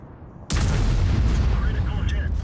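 A tank cannon in World of Tanks fires one sudden, heavy blast that cuts in from near silence, followed by a sustained roaring rumble and scattered battle noise, with someone talking under it.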